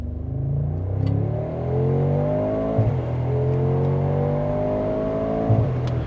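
Cabin sound of a Mercedes G63 AMG twin-turbo V8 accelerating through gears, its synthetically augmented engine note climbing steadily in pitch, then dropping sharply at two upshifts, each marked by a brief burble.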